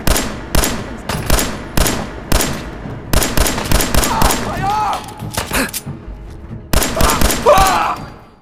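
Gun firing in the video game Fallout 4, a rapid series of loud sharp shots in bursts with brief gaps, close and punchy, with a couple of short ricochet-like whines mixed in.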